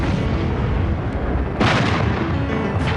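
A large-caliber breech-loading artillery gun fires with a loud, sustained booming roar, and a fresh blast bursts out partway through.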